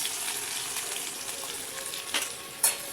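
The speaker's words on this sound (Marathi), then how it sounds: "तर आपण त्यामध्ये आता कांदा टाकूया." Chopped onion dropped into hot oil already tempered with mustard seeds and cumin, giving a steady loud sizzle and crackle with a couple of sharper pops near the end.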